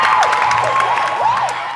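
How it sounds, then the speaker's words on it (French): An audience cheers, whoops and applauds for a singer at the final of a televised singing show, loud and close with shouting voices rising and falling over continuous clapping. "Applaudissements"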